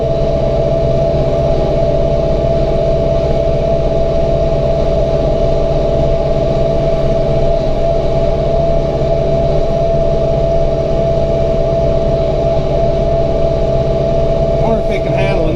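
A Massey Ferguson 1755M compact tractor engine labours up a hill, giving a loud, steady droning hum that holds constant throughout with no breaks.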